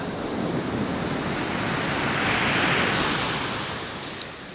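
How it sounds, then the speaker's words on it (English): Steady broad rush of sea swell and surf breaking on the shingle of Chesil Beach, swelling slightly louder mid-way then easing, with wind buffeting the microphone and no voices. "That swell's getting up."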